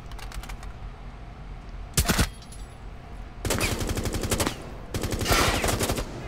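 Automatic gunfire in the video game Rainbow Six Siege on a yacht map, loud rapid bursts of rattling shots, one short burst then two longer sustained strings close by.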